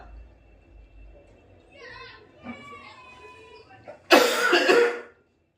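Quiet background chatter from children during a maths class, then a sudden loud burst of harsh coughing near the end.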